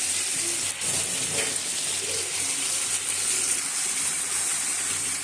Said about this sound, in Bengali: এখন সামান্য পরিমাণ পানি দিয়ে নিব।